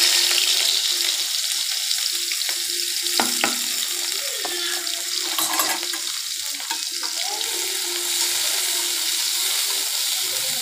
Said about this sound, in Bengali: দিয়ে দিলাম জিরা ফোড়ন। জিরাগুলো ভাজা হয়ে গেছে, এখন দিয়ে দিব পেঁয়াজ কুচি।